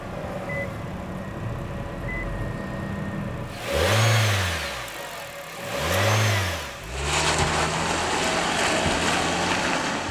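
A 2022 Nissan Versa SR with a CVT drives along with steady road and engine noise throughout, and two louder swelling passes, like passing vehicles or bumps, stand out in the middle.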